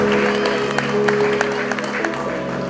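A church congregation claps in a steady patter of hands, moderately loud, under a sustained tonal drone from a keyboard or organ.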